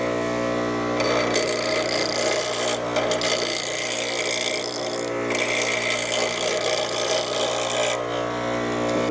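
An old trailer wheel bearing race is ground down with a power tool, giving a loud, continuous, close rasping grind that breaks off briefly a few times between passes.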